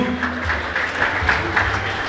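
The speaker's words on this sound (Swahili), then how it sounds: "Weka makofi kwa ajili ya msanii wetu." Applause greets a student at a graduation ceremony at Faraja Seminary in Moshi, a brief burst of crowd clapping with a murmur of voices and low rumble beneath it.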